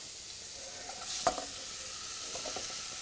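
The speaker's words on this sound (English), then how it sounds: "we're going to fry these onions" Red onions frying in hot olive oil in a pan give a quiet continuous sizzle, with one sharp clatter of a spoon or pan and a few fainter taps after it, no talking.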